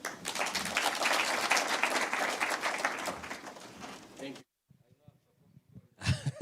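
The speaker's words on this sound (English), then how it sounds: "A round of applause for him again." Dense, sustained audience applause fills a hall at a KenGen Kenya energy-sector event for about four seconds, then stops abruptly, leaving a quieter voice speaking.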